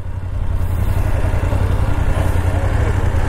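A BMW GSA motorcycle engine rumbles steadily and loudly at close range, a constant low-pitched idle with no talking over it.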